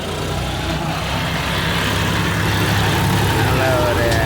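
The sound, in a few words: vehicle driving away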